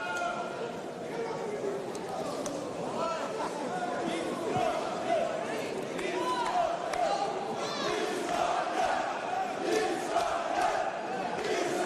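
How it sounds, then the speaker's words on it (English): A boxing crowd at Techport roars with Uzbek chants during a bout between Madrimov and Igbokve, a dense, continuous wash of shouting voices with a commentator talking over it. "Uzbek chants coming from the crowd here at Techport"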